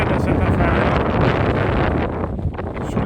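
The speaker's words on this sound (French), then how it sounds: "Le vent, là, c'est comme ça depuis, je dirais, presque 500 mètres." Strong gusting wind buffets the microphone on a steep mountain climb along the Appalachian Trail, a continuous loud roar and rumble with no pause.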